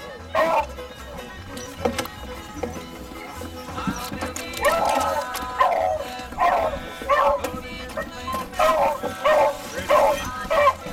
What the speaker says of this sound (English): cut these dogs loose and get ready to go hunting here